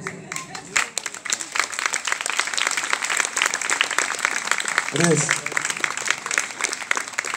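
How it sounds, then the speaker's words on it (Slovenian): A concert audience of a Slovenian quintet breaks into applause, dense rapid clapping close by that fills the whole stretch, with a brief voice and a few musical notes sounding underneath. "tako da en velik aplavz za njih"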